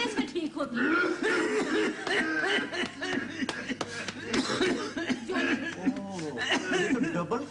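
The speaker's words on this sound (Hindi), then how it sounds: "ये तो डबल खांसी है," Repeated coughs come through amid chuckling and talk, the coughs short and throaty and spread across the stretch.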